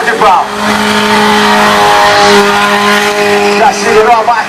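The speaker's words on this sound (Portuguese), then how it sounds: "Vai acelerando, vem pro sua mão, já vai no drift. Vai no drift e fecha no cavalo de pau." A car drifting and spinning doughnuts at a street burnout event in Morro da Fumaça, its engine held at high revs with long tire squeal, loud and close while an announcer talks over it.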